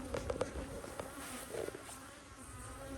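Honey bees buzz at a hive in a steady close drone, with a few sharper tones early on and no talking.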